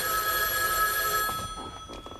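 A telephone rings indoors, a steady electronic bell tone that stops partway through, leaving quieter room noise and faint movement, with no talking.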